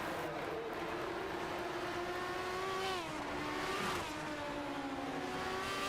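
A field of race cars in a NASRA heat race at Knoxville sweeps past the start-finish line, a steady blended engine roar with rising and falling pitch, heard from a moderate distance.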